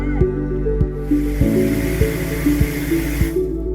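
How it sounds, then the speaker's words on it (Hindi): An agricultural drone sprays nano urea over a farm field in Sirsa, giving a steady droning hum with broad hissing spray. Soft regular ticks repeat throughout, with no voices. "ड्रोन के माध्यम से हम नैनो यूरिया की ही स्प्रे कर रहे हैं।"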